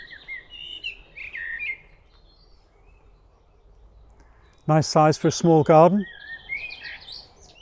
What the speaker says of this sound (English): There's a blackbird singing just over here.